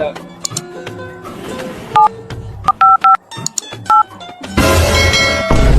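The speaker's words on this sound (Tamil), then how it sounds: "எமர்ஜென்சியா கால் பண்ணேன் தங்கச்சிக்கு" A mobile phone dials a call with a string of loud, close DTMF keypad beeps in uneven bursts, followed by a steady tone or ring at the end.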